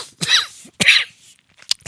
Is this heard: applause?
no